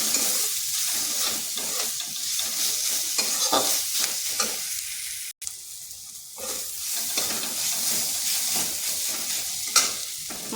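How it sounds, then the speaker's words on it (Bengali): Spice masala with chilli powder frying and being stirred in a pan, a steady sizzle with continuous scraping strokes throughout, close and fairly loud, with no one talking. "এই মশলাটা হালকা একটু ভেজে নিচ্ছি"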